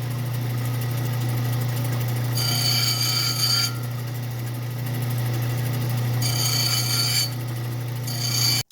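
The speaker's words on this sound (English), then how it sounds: "There's one little pocket in here that I need to grind out, because I don't want that to interfere later with my facets." A faceting grinding wheel hums steadily as a quartz gemstone preform is ground, with two bursts of harsh, raspy grinding a few seconds apart over the constant motor drone.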